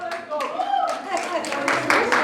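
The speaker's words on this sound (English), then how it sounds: "give them a big round of applause" Scattered hand clapping from an audience at a Diwali dance event, brief and somewhat sparse, with voices talking and calling out over it.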